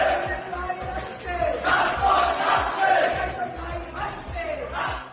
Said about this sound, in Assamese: গৰু লৈ শ্লোগানত মুখৰ মধুৰ কেন্টিন